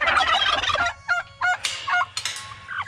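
Turkeys gobbling as they are let out of their coop on a small farm, a burst of loud overlapping calls followed by several separate rising gobbles close by, with no talk.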